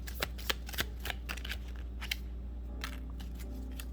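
A deck of tarot cards is shuffled close by, giving a series of quick riffling snaps and soft slides over a low background hum.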